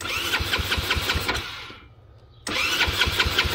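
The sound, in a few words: engine starting and running with Holley Sniper EFI throttle body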